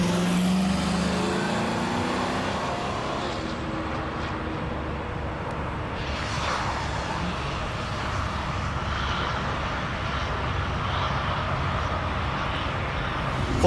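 A Crown Victoria patrol car with a 4.6-liter V8 and slick rear tires sliding on a skid pad: a steady, loud engine roar with tire noise that holds unbroken throughout, with no clear breaks or bursts.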